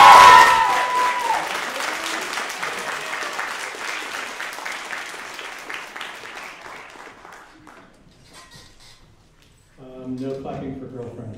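An audience at a senior class creative writing reading bursts into loud applause after a poem, the clapping fading slowly over several seconds before a voice speaks near the end.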